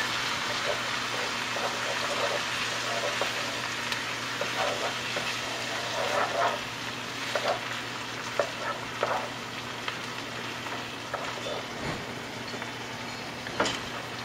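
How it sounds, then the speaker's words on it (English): Diced canned tomatoes stirred into softened onions in a pan: a steady close sizzle and frying hiss under repeated wet scraping strokes of a utensil. "So what I'm going to do now is stir this in and keep it in the pan here until it starts to caramelize"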